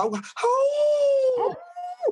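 A person howls in a long, drawn-out, wavering wail that rises and holds, then breaks into shorter yelps and a second held note, a voice imitating a wolf or dog howl, close and loud.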